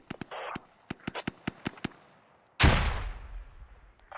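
Mortar fire in a tactical military shooter game: a run of sharp, evenly spaced nearby shots followed by one heavy booming impact with a long rumbling decay, loud and with no talk over it.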